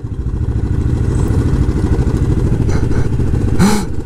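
A Yamaha Grizzly 700 SE quad engine driving offroad on Sardinia, heard as a loud, close, steady drone with mechanical clatter and a short rising whine near the end.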